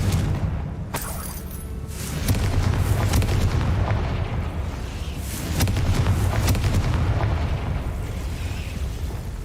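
Spell explosions from the Hogwarts Legacy video game, with a couple of loud booming blasts and a rumbling, crackling burst filling the scene.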